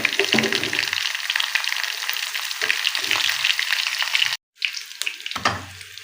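Green chillies and half a teaspoon of cumin sizzling in hot ghee for a tempering, a loud, steady frying hiss that cuts out briefly for a moment before resuming.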